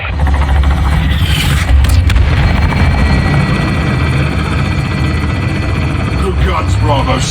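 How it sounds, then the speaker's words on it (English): A helicopter strike on marked targets in Call of Duty Modern Warfare 2 brings a loud, constant rotor thrum under heavy gunfire and blasts, with voices talking over it. "get the designator and mark targets for Price in the helo"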